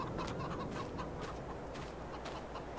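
Chickens cluck continuously in Farming Simulator 22 on a sunny farm morning, a dense busy chorus of overlapping bird calls close by over a steady ambient bed.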